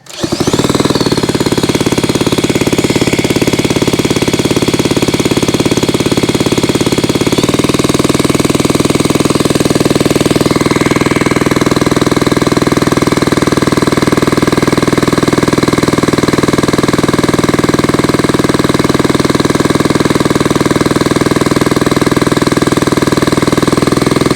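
A 1975 Kawasaki KE125 motorcycle engine running loud and close, a steady buzzing two-stroke drone that shifts pitch around seven seconds in and keeps going without any voices.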